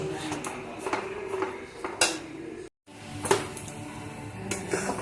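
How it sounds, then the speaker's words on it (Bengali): A spoon scrapes and clanks against a pot while potatoes are turned with spices, giving a steady run of close metallic knocks and scrapes with a brief silent gap midway. "আলুটা ভালোভাবে মশলার সাথে কষিয়ে নেব"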